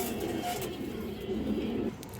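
Several pigeons being shown for sale coo in low, rolling murmurs close by, a steady soft burble with a faint voice in the background.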